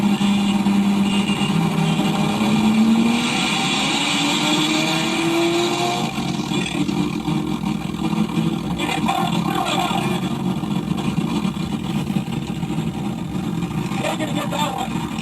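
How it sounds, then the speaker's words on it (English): Two turbocharged cars race side by side on stock fuel, one with a single turbo, engines droning steadily at speed with a rising tone from accelerating, constant loud road and wind roar throughout. "This is my buddy racing him. Stock fuel, single turbo."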